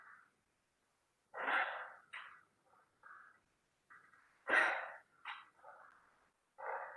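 Heavy, effortful breaths from a person mid-workout, coming as loud separate huffs and exhales in an uneven rhythm with short pauses between them, close and alone with no talk.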